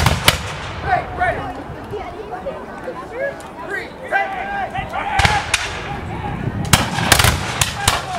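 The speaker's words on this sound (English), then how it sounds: "the volleys are getting better" Musket volleys at a battle reenactment, with several sharp, loud broadband cracks, some ragged and some bunched, standing out over steady crowd chatter and nearby talk.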